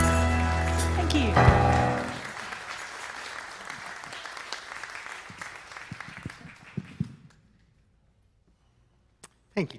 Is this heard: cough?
no